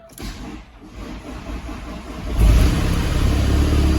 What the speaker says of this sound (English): So I'm in the van now, and I'm just about to start it up.